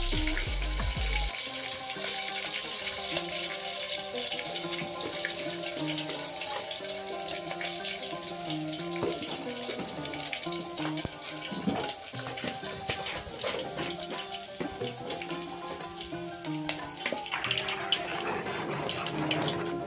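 Mustard seeds and cumin spit and sizzle in hot oil for a tempering of turmeric and salt over a wood-fired stove, a steady crackling hiss with sharp pops throughout.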